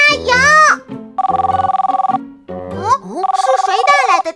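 A telephone bell rings in two bursts of rapid, evenly pulsed trills in a children's cartoon about vehicles and a sports day, with animated child-like voices talking before and between the rings.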